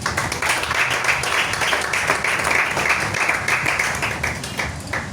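A church congregation applauds together, a steady dense crackle of many hands clapping that holds at an even, fairly loud level for several seconds, with no voices over it.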